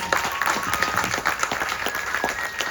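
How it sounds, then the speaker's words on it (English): Audience applause at a Ganesh Chaturthi Utsav religious gathering, a steady dense wash of many hands clapping, fairly loud and continuous, with a faint voice underneath. "Please give him another round of applause."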